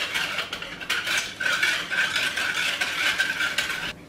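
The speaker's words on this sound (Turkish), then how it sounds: "karıştırarak içerisinde şekerin erimesini sağlıyorum" A spoon stirs sugar into cold milk, a steady run of close, light scraping and clinking that goes on unbroken for several seconds with no talk.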